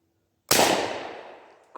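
A single sharp gunshot cracks out of silence while hunting squirrels, loud and close, with a long decaying echo trailing off for about a second.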